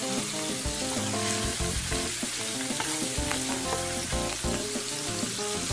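Ground beef fries in a pan, giving a loud, constant sizzle and crackle with occasional stirring scrapes, close and steady with no talk.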